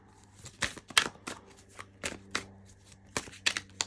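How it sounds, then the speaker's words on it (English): Tarot cards being shuffled by hand, a run of sharp riffling bursts and soft slaps in an irregular rhythm, close and clear with a faint steady hum beneath and no talk. "you guys can stay if you want to watch me shuffle the cards"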